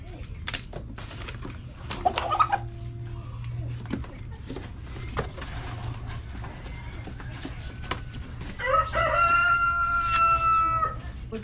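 A rooster crows near the end, loud and drawn out, after scattered clucks and farmyard noise over a low background hum.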